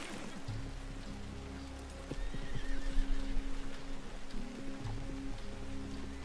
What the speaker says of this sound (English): there's the cart horse. I'm gonna ride the cart horse.